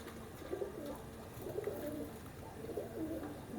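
A pigeon of the teddy breed coos softly in repeated low, throaty phrases about once a second, fairly quiet and close against a faint background hiss.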